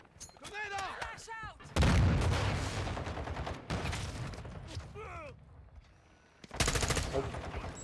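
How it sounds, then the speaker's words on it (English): A thrown grenade exploding in the video game Modern Warfare 2: two loud broadband blasts, several seconds apart, with rumbling tails, and brief gunfire and a voice talking in the quieter gaps. "Grenade out."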